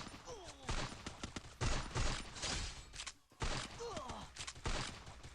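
Rapid bursts of gunfire in the mobile shooter Free Fire crackle in quick clusters, moderately loud, with someone talking excitedly over them.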